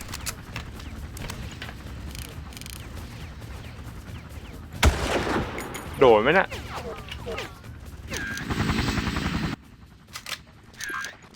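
Gunfire from the video game Far Cry 1 comes in scattered shots and crashes, with a louder burst midway and a sustained blast later, under ongoing talk in Thai.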